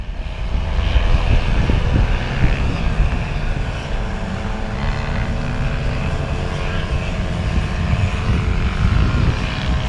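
A small propeller plane's engine roars steadily and close, its droning buzz rising and falling slightly as the throttle is pushed, with no clear speech.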